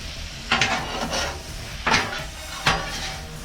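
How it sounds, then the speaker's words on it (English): Seasonings being stirred into a pot of gumbo, with a utensil scraping and rubbing the pot in three distinct strokes over a low, steady simmering hiss, close and moderately loud. "And then go ahead and give it a stir. Get them seasonings mixed in real good."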